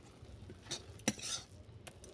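A spoon scrapes and clinks against a pan while stirring a sweet milk filling with nolen gur date-palm jaggery, papaya and butter for patishapta. A few light, quiet taps and scrapes are spread over a couple of seconds.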